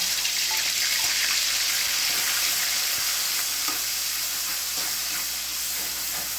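Onion, garlic and ginger fry in hot mustard oil with a loud, continuous, close sizzle and hiss, and occasional soft stirring scrapes come through. No one speaks.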